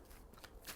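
A brief, soft riffle of tarot cards being shuffled during a card reading, a faint papery flutter lasting under a second with a slightly brighter snap at the end.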